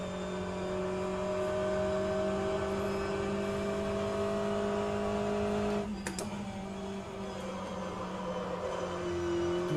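An Aston Martin GTE race car in the rFactor2 racing game holding a steady engine drone through turn 1 at Road Atlanta. A brief sharp burst near the end breaks the tone before the engine note returns.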